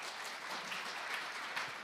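An audience at a new-technology certification forum applauds after a presentation, a dense, steady patter of many hands clapping at moderate distance throughout, with no talk over it.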